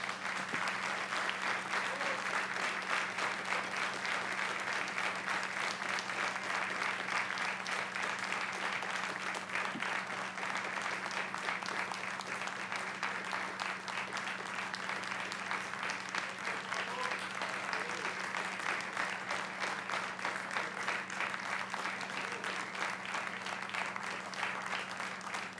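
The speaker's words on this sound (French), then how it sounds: "Merci pour vos applaudissements." Sustained, even applause from a lecture audience after a talk on Yves Saint Laurent and Picasso fills the room, a steady dense patter of many hands, somewhat distant and soft, with a faint constant hum beneath.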